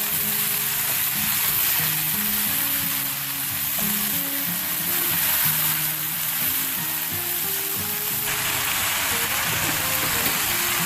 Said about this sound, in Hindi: सिर्फ हमने इसे 2 मिनट ही फ्राई करना है।